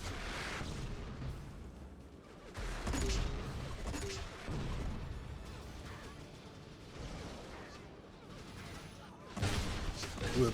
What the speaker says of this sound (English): Ooh, a close range flak.